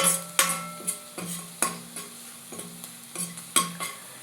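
Onions sizzle in a hot pan for chilli garlic egg fried rice while a spatula stirs them, giving steady frying hiss punctuated by regular scraping strokes roughly every half second, close and clear.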